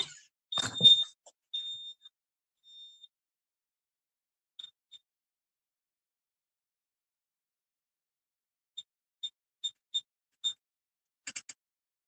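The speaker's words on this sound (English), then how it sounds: "I gotta turn this alarm off" Short, faint electronic alarm beeps go off alone in a quiet room, an irregular burst first, then a steady series of evenly spaced chirps.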